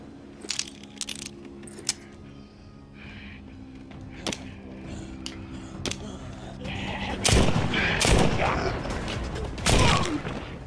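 Gunshots in the VR game Saints and Sinners, sharp bursts scattered through a stretch of mechanical clatter and clicks, with a cluster of heavier shots near the end and a faint voice underneath.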